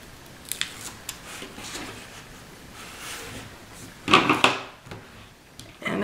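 Scissors snip through excess paper during a paper craft project, a short burst of crisp cutting strokes up close, preceded by faint handling rustles in a quiet room.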